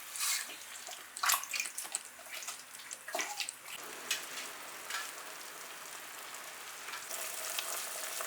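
Mutton meat sautés in a pan with added water, giving a continuous bubbling sizzle with scattered sharp crackles and pops, moderately quiet, steady with no voices.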